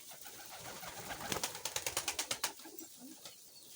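A pigeon close by: a quick run of flapping wingbeats, then a soft, low coo over steady outdoor hiss.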